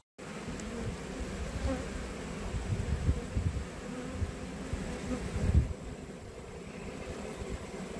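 Honey bees swarming around a hive box fill the air with a dense, steady buzz, close and continuous throughout, swelling briefly partway through.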